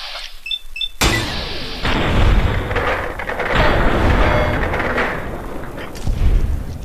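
Gunfire in the PC game Fallout: New Vegas: a sharp loud blast followed by sustained rumbling booms and echoing shots, dense and close throughout.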